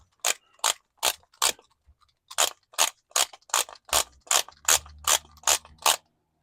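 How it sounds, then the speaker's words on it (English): A large torque wrench is adjusted for an oil change on a 2019-2024 Chevy Silverado, giving a sharp series of loud ratcheting clicks, first four evenly spaced, then a pause, then a longer steady run of about ten. "So I'm gonna go ahead and set my torque wrench."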